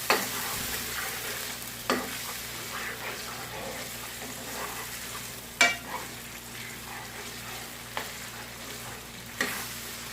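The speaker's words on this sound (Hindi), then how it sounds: "हाफ टेबल स्पून हल्दी शामिल कर लेते हैं। और इसको 1 मिनट के लिए भूनते हैं, मिक्स करते हैं।" Turmeric being fried and stirred in a pan for ginger chicken, a soft steady sizzle with periodic spoon scrapes and taps against the pan every couple of seconds.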